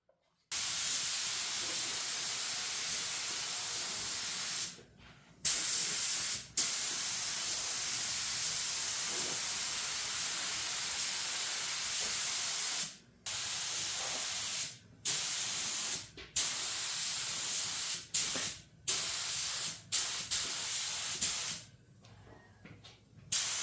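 Long bursts of Cerakote Air Cure Glacier Silver aerosol spray hiss loudly and close, broken by brief pauses, then shorter rapid sprays toward the end.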